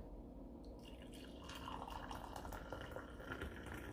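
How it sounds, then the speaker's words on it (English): Ninja XL 14-cup coffee maker brewing a rich brew, a quiet steady trickle and drip of hot coffee filling the carafe, with faint gurgling and no talk. "I chose rich, then select brew, so my coffee is brewing."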